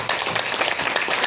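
Audience clapping at a motivational boot camp business seminar, a quick burst of many hands applauding together, fairly loud and close with a busy, slightly uneven texture.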